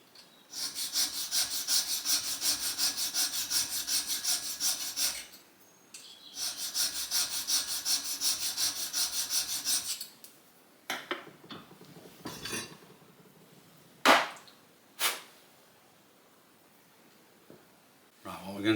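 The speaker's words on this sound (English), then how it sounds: "We're just going to use a file for that." Hand file cleaning out a slot in a metal planer casting with long, rasping strokes, two sustained bursts of filing up close, then scattered scrapes, clinks and knocks of metal.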